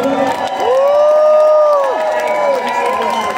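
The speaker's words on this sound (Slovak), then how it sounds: "Odprevadíme veľkým potleskom naše zahraničné hviezdy" An audience at a Bratislava concert show cheers and whoops loudly, with applause mixed in. A loud amplified voice carries over the crowd noise, rising and falling in long tones.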